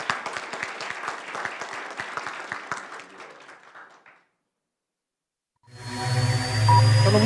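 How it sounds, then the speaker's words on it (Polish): Audience applause at a Polish municipal ranking awards gala rolls as a dense crowd clapping for about four seconds, then fades to silence before loud music and a low hum come in. "Jeszcze raz gromkie brawa"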